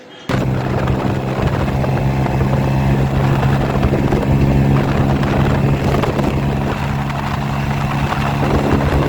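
Motorcycle ridden at full throttle, a loud, continuous engine roar mixed with heavy wind rush that starts abruptly and holds steady throughout, with no talking.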